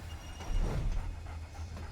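A dog pants in the video game Remnant, giving a short burst of breathy, low huffing that peaks midway and sits over a steady rumbling game background, with no talk.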